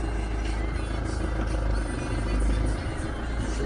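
A 2001 Ford Transit van with a 2.0L engine idles with first gear selected, a steady low rumbling drone close by with no talk over it.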